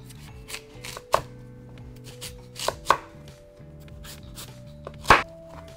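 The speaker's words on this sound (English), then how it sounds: "I'm going in with my fennel, chopping that up" A knife cuts through fennel on a board in a few sharp, irregular chops spaced seconds apart, close and crisp over a faint steady tonal background.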